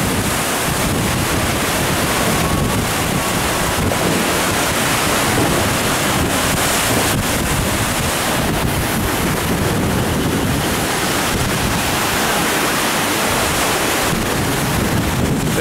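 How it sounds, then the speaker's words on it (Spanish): The swollen San Lorenzo creek rushes beneath a footbridge of railway sleepers with a loud, unbroken roar of fast floodwater, steady and close throughout with wind buffeting the microphone. "Por encima del arroyo San Lorenzo, que sigue muy crecido"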